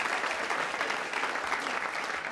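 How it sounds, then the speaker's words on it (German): A cabaret audience claps as a comedy number ends, a continuous wash of many hands at moderate level, even and unbroken throughout with no voices over it. "Die klatschen jetzt, weil das ist ein Kabarettpublikum."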